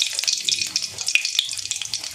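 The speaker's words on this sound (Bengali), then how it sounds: "দেখুন আমি দুটো লঙ্কা 4 টুকরো করে তেলের মধ্যে দিয়ে দিলাম" Two chilies cut into four pieces crackle and sizzle in hot oil in a pan, a faint, steady hiss with small popping spits throughout.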